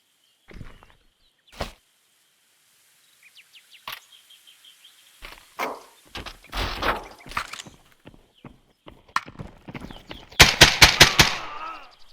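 Gunfire in the VR shooter Escape from Tarkov: scattered single shots and short bursts, sharp and close, ending in a dense rapid volley, with brief spoken remarks between.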